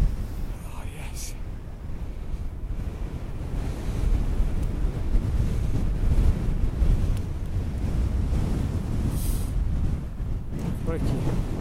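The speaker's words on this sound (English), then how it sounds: "It's really, really windy up here" Loud gusting wind on a hilltop roars across the microphone continuously, swelling in the middle, with faint breathy voice sounds underneath.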